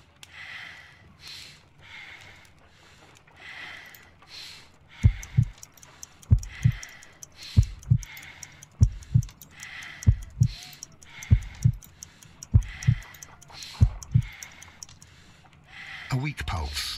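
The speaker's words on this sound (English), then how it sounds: "I need to concentrate and count the heartbeats." Slow, deep heartbeat thumps from the Sherlock Holmes Crimes and Punishments video game, evenly spaced at a weak, sluggish pace, with a faint airy background and voices talking over the opening seconds.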